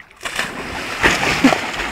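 Someone jumps into water, and a loud splash breaks out after a brief quiet, followed by sloshing and smaller splashes close by.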